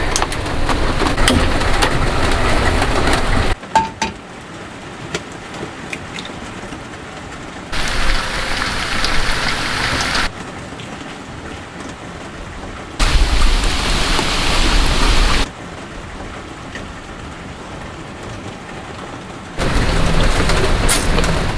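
Steady rain hisses throughout in Maui, swelling loud in several blocks and dropping to a quieter patter in between, with no voices.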